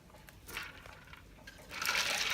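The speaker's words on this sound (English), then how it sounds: "now we're taking the beans from the boiling pot of water and putting them immediately over into the ice cold bath" Freshly blanched green beans are lifted from a pot of boiling water and dropped into an ice water bath, giving soft wet splashes and a brief watery clatter that swells louder toward the end.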